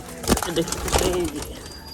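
Pigeons in a wire-net cage coo in a few soft, throaty bursts close by, with some background noise around them.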